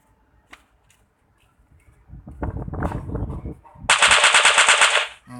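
Gunfire in the Free Fire video game: a burst of rapid shots followed by a loud, dense stretch of sustained automatic fire up close, with a faint voice now and then.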